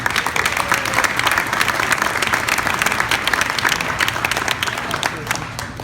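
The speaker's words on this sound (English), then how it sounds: "Round of applause for that." A crowd applauds at a builders' association 60th anniversary celebration, with sustained clapping and some distinct individual claps standing out, loud and continuous, with a faint murmur of voices underneath.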